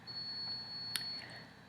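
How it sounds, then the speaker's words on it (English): A coffee pot beeps once near the middle to signal that brewing is done, a short faint electronic tone over steady room hum with a steady high whine in the background. "That's my coffee pot telling me that it's done doing its thing."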